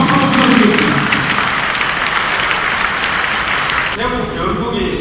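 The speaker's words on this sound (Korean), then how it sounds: "여러분, 박수 한번 부탁드리겠습니다." An audience at an airport debate forum applauds in a steady, hissing wash of many hands clapping at once, sustained for several seconds at close range, with a voice speaking near the end.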